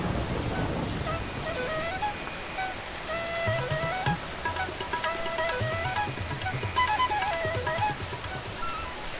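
Steady rain falls on a surface for the whole stretch, a dense continuous patter with a faint rumble underneath and no voices.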